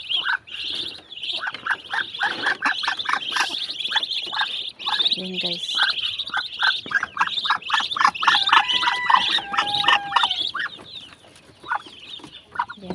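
Hens cluck and chicks chirp rapidly in a steady chorus, close and loud, with a brief spoken word partway through.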